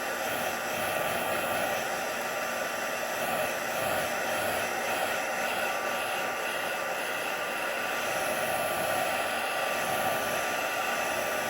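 A hair dryer blows hot air over wet watercolour painting paper, a loud, steady, close whoosh that runs unbroken throughout.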